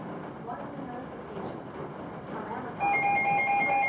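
A smart speaker chimes a notification, clear repeating tones that start near the end over a background of storm noise and a voice.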